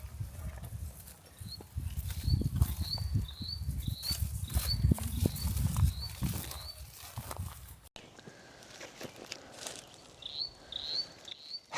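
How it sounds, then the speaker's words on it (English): A Dalat bush warbler calls in the DaLat highlands of Vietnam, a loud insect-like buzzing trill repeated in a steady series of short phrases, over rustling and handling noise, with a few more calls after a brief break. "The last bird we need. Number 100. The DaLat bush warbler."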